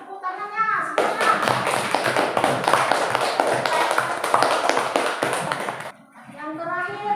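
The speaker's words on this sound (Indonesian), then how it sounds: "Sekarang tepuk tangannya semuanya." A group claps hands together in a classroom, a dense and steady burst of applause lasting about five seconds. Voices are heard just before and after.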